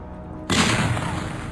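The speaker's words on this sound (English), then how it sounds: "you hear another gunshot" A loud gunshot sound effect from a tabletop game session bursts in sharply after a short quiet lead-in, then fades into a rumbling tail, with no talk.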